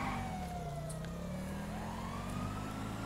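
Police sirens in the video game GTA 5 wail in long rising and falling sweeps over a steady engine rumble, continuous and fairly prominent.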